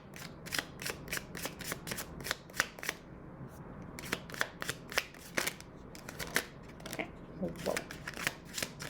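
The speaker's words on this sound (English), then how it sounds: "I'm just a klutz at shuffling right now, because these cards are really tiny" Very small tarot cards are shuffled by hand up close, a rapid series of crisp riffling flicks that comes in uneven clusters, with brief pauses between runs.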